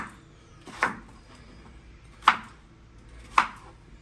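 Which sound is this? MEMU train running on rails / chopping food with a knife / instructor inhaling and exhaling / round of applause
chopping food with a knife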